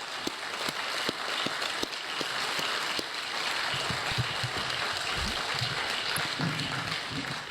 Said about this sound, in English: So if we could please just give them a round of applause.